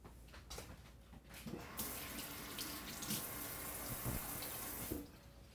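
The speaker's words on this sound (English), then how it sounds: "Make sure to wash all your fruit really well." Fruit washed under a running kitchen tap, a steady rushing stream of water splashing over produce in a sink, with brief louder splashes and shifts in flow, close and fairly quiet.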